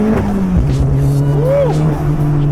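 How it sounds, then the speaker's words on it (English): Honda Civic Si fitted with a Wilwood brake kit slows with a dropping engine drone and a brief rising tire chirp, heard loud from inside the car with some talk. "When we brake like this, like if I wanted to brake, I just like stop."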